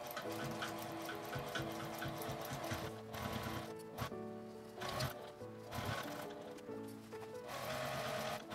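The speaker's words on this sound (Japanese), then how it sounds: "手で回して" A sewing machine stitching a zipper seam as the handwheel is turned by hand, giving a close, quiet, uneven run of mechanical clicks and whirring with short pauses.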